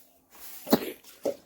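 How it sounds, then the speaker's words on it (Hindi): A person coughs a few times, short harsh bursts close by, with a quiet pause between them and no talking. "कुछ नहीं बस खांसू करते हैं"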